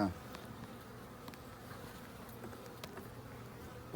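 A steady, dense buzz of many honey bees at an open hive fills the air, low and continuous, with a few faint clicks and knocks.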